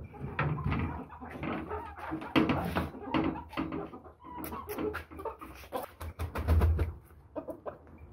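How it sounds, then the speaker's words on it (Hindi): Aseel hens clucking and squawking repeatedly in irregular bursts, close by, with some scattered background noise. "हमारी मुर्गी है ये शोर बहुत ज़्यादा डालती है"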